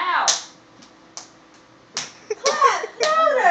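Hand claps in a room at home, meant to switch off the lights: a few sharp, uneven smacks scattered among children's voices talking.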